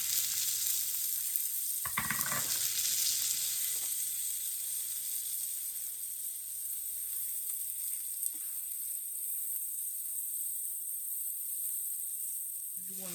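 About two tablespoons of butter sizzle steadily in a frying pan, a soft continuous hiss with a brief clatter early on, no voices.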